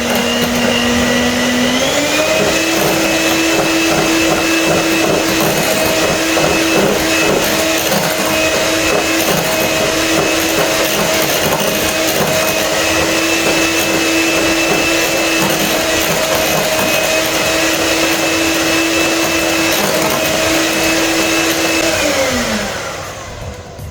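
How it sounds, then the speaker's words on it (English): An electric mixer beating butter with vanilla cream, a loud, steady motorized whir running close up and unbroken, with a slight shift in pitch early on before it winds down at the end. "put into the butter, and beat this together"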